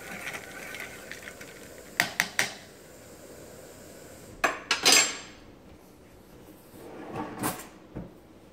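A spoon knocks and scrapes inside a coffee cup in a quiet kitchen, a few sharp clinks in short bursts close by, with no talk.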